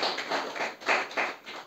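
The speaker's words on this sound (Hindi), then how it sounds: "ताली बजा सकते हो प्रभु के लिए" Congregation at a church service clapping their hands for the Lord, a rhythmic series of about six evenly spaced claps, moderately loud and slightly distant in a reverberant room, with no talking.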